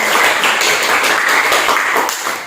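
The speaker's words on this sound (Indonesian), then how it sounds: "tepuk tangan dulu karena sudah" Classroom group claps hands in brief, fairly loud applause for classmates after their presentation, a dense patter of many hands that fades near the end.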